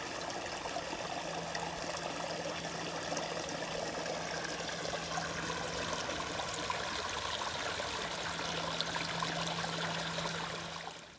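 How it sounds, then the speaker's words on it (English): Running water pours into a small stream plunge pool somewhere along the West Highland Way in Britain. It trickles and splashes steadily at close range and moderate volume, continuous for about eleven seconds, with no voices. "luckily there was a little plunge pool over there, running water"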